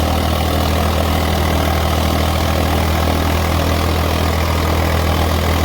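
A tractor engine running freely at steady idle, a loud, continuous low rumble with constant vibration throughout and no pauses or talk.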